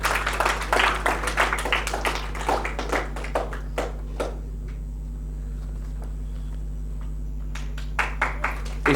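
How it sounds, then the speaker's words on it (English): Scattered clapping from an audience at a social impact event in Goa, a few sharp hand claps close by that fade out midway, then resume briefly near the end over a steady low hum. "Huge round of applause for Ishra Mullah."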